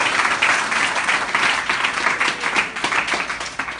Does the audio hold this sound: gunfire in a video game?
no